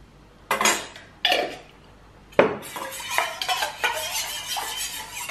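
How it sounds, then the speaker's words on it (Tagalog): Food being mixed in a bowl with a utensil, with a few sharp clinks against the bowl followed by a run of quicker scraping and tapping strokes, close by and with no talking. "Mix lang natin."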